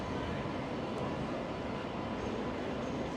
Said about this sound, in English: And again, we've got the train, and they are really, really good looking trains with all adverts on them.